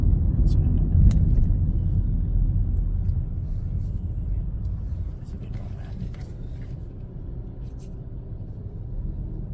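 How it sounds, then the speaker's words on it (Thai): Heavy rush-hour traffic in Vientiane, Laos, a continuous low rumble of cars and engines with occasional faint horns, under a voice speaking at times. "รถติดยาวเลยได้ทุกทางเนาะ"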